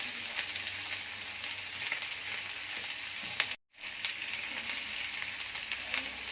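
Tripe fries in a pan with a steady close sizzle, broken by one very short silent gap partway through, with no talk.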